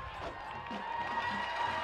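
A crowd at a high school football game between the Eisenhower Eagles and Chippewa Valley Big Reds cheers steadily from a distance, a broad sustained roar with a commentator talking over it.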